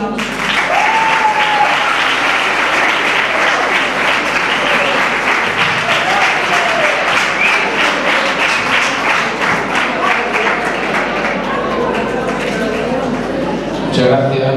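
Sustained, loud audience applause at a flamenco conference held at a secondary school, steady dense clapping for about fifteen seconds with a few voices and whoops mixed in.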